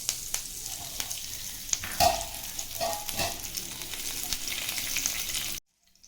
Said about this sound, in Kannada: ಸ್ವಲ್ಪ ಕರಿಬೇವಿನ ಸೊಪ್ಪು ಹಾಕ್ಕೊಳ್ಳೋಣ.